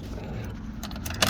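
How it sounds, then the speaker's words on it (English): Car keys for a 1968 Pontiac LeMans jingle faintly and briefly as someone searches through them, with a sharper clink right at the end. "Give me 1 second, I'm trying to find the key."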